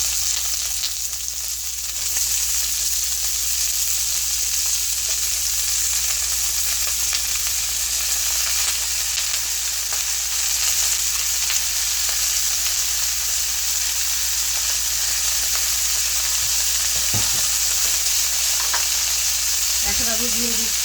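Broccoli, sliced onion and slit green chillies sizzle steadily in a hot pan, a continuous loud frying hiss with a few soft stirring clicks near the end.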